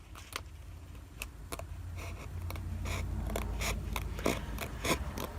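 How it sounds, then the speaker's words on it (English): Scissors trimming paper for a handmade junk-journal envelope, a series of quiet close snips and rustles at irregular intervals, with faint paper handling between cuts. "I'm going to come in with my scissors, and I'm just going to trim that off."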